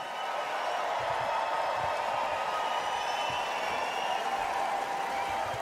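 A large crowd in a convention arena at the 2024 Republican National Convention sends up a sustained, far-off roar of cheering and applause, steady and unbroken throughout.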